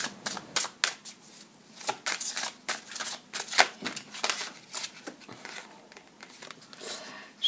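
Tarot cards being shuffled by hand, a quick run of crisp riffling bursts and soft slaps repeating close up, no voices in the clip.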